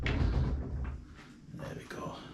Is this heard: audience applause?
no